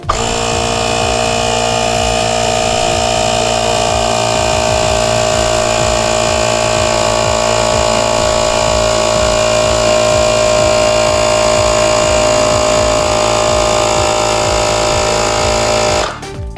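A cheap Temu portable air compressor pumps up a tire with a loud, steady, buzzing mechanical drone that runs continuously for about sixteen seconds and then cuts off abruptly.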